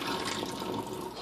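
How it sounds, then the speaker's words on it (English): Water from clams is emptied out in a short, moderately quiet splashing pour lasting about a second. "Empty the water out of the clams, obviously."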